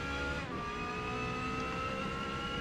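Race car in Forza Motorsport, an R class Oreca prototype on the Daytona sports car circuit during a qualifying lap, accelerating with a steady, loud, high-pitched engine note and dense harmonics that hold up throughout with no talk.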